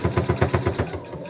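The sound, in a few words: sewing machine stitching a flamingo plush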